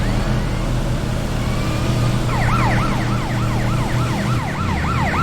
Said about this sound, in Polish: Słyszę policję.